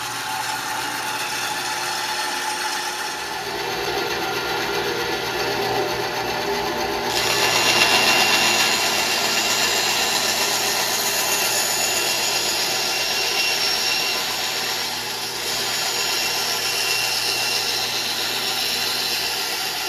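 Vintage Delta-Milwaukee Homecraft 10-inch band saw running freshly fitted with new tires, a steady close mechanical hum and whir that swells louder midway before settling back, with no voices.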